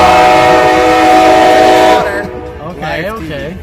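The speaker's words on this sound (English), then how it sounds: "train is really loud" A loud train passes close by, its horn or whistle sustained as a blaring tone for about two seconds before fading, then a voice speaks over the lingering rumble.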